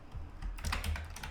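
Rapid keystrokes on a computer keyboard, growing denser and louder partway through as typing speeds up, close to the mic with no voices.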